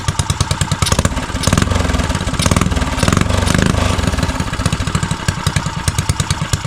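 A custom Motovox mini bike's small engine idling close by, a loud, rapid, uneven putter with a lumpy cam rhythm that swells briefly mid-way, no voices.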